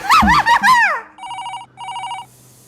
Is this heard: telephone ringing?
yes